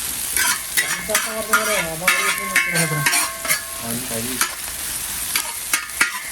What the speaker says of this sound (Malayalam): ഇത് നമ്മൾ അതിൻ്റെ മസാലക്കുള്ള പിന്നെ ഡെക്കറേഷനുള്ള ഉള്ളിയാണ്. അപ്പോൾ നമ്മൾ വറുത്താണ് എടുക്കുന്നത്.